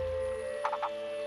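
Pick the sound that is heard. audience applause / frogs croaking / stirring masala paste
frogs croaking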